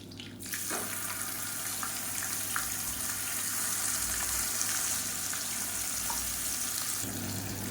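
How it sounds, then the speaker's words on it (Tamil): Water rinsed from a mixer jar poured into a pan of frying masala paste with curry leaves for Tamil lunch cooking, a steady close splashing gush over sizzling oil lasting several seconds, no talking. "நான் வந்து மிக்சியை அலசிட்டு கொஞ்சமாக தண்ணி விட்டுருக்கேன்"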